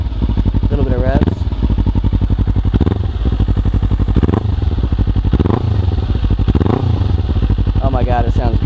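A Kawasaki Ninja 300 fitted with a Yoshimura R-77 full exhaust idles loud and close with a rough, throaty burble, blipped into several short, sharp revs that rise and fall at a steady pace.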